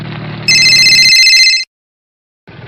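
A telephone rings once in a loud, trilling burst after some low background noise, then falls silent before another sound begins at the very end.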